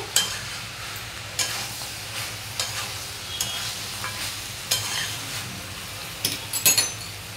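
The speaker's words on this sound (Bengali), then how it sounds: "এবার দিয়ে দেবো ভেজে রাখা ওই ডালের বড়িগুলো। এবারও আবারও একটু নাড়িয়ে চাড়িয়ে দিয়ে" Fried lentil badis are stirred into a Bengali village-style banana stem curry, a soft sizzle running underneath while a spoon scrapes and knocks against the pan in scattered sharp clinks.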